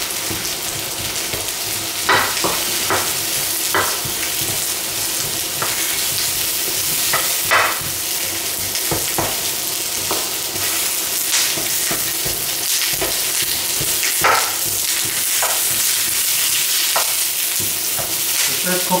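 Onions fried over the highest heat while being stirred, a loud continuous sizzle broken by frequent scraping stir strokes, close and steady throughout, no talk.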